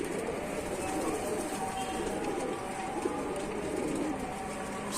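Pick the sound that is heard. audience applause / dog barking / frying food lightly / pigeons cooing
pigeons cooing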